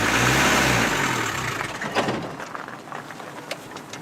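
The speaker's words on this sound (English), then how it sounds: "In one scene, the car wouldn't start and move on the first attempt." A car engine revs hard in a film scene where the car fails to start and move on the first try, a loud roar that fades over a few seconds and leaves faint scattered noises behind.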